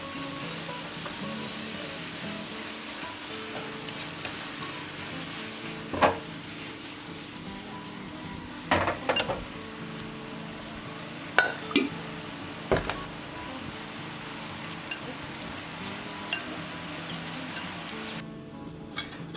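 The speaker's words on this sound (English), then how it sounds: "when you fry the rice, we make the soup the smell is very good" Rice frying in a pan while making termite mushroom soup gives a steady, soft sizzle throughout, with a few sharper clinks and scrapes of stirring scattered over it and no voices.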